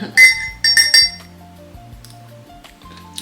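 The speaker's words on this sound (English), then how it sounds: "So let me get my spoon. I'm gonna take it out of my cider. Stir it up a little bit." A metal spoon stirring in a glass of cider, with three bright clinks against the glass up close, followed by quieter swirling and a few light taps.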